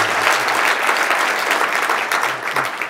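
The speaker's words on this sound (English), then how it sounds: "Please give Doug a warm round of applause" Steady audience applause fills a conference talk on documentation tooling as the speaker is welcomed, a dense, continuous patter of many hands clapping at close range throughout.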